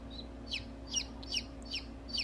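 A newly hatched chick in a homemade incubator peeping in a quick series of high, sharp cheeps, about six in a row, over a low hum.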